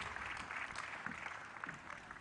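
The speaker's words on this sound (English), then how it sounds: "Round of applause." An audience at a church career fair claps as a speaker leaves the stage, a brief burst of fairly quiet applause at a steady level that trails off slightly toward the end.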